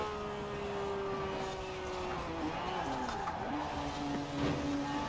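A Lamborghini Diablo GTR racing in Forza Horizon 4, its engine holding a steady droning pitch that dips and climbs through gear changes and corners, with faint tire noise running beneath.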